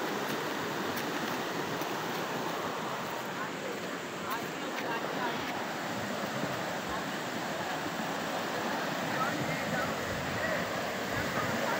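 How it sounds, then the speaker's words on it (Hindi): Rain-fed stream in flash flood rushing past a bridge at Khawajgan, Mansehra, a steady broad roar of churning water close by, continuous and loud throughout with no let-up. "ये पानी एकदम आ गया है, बरसाती नाले का पानी।"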